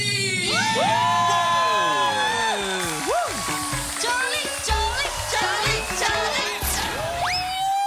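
A studio audience at a Taiwanese TV variety show cheers loudly as a dancer is welcomed onto the stage. Shouts and whoops run continuously over music and voices.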